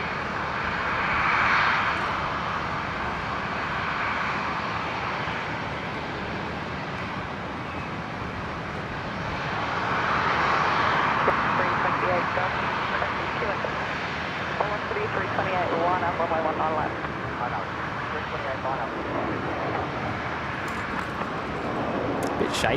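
A Dash 8 turboprop from Wagga Wagga comes in to land in gusty wind, its engine drone a constant broad roar that swells and fades, with talk and radio chatter layered over it.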